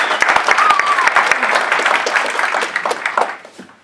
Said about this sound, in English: let's take a minute and give a round of applause to Uncle Mike